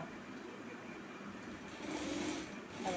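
A sewing machine stitches through double-folded cloth with a soft, quick mechanical whirr, faint and steady with slight swells.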